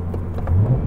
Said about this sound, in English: you can regular rev match without coming to a complete stop